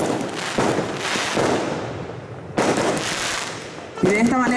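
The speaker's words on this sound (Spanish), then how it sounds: "celebramos con los fuegos de artificio este acto tan importante para nuestro distrito" Fireworks set off at a municipal ceremony in the Santa Rita district, a string of loud crackling bursts and booms close by, followed by whistling rockets at the end, with voices faintly mixed in.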